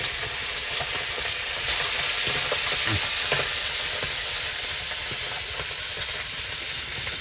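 Bele fish (double bele fry) frying in hot oil, a steady dense sizzle and hiss running throughout with occasional faint stirring clicks, close and continuous with no talk.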